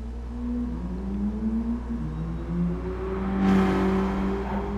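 A Mercedes-Benz A 45 AMG with a 2-litre 16V turbo engine drives the Alsace track in GT Sport, its engine note climbing through revs with a sharp gearshift burst near the end, no talking.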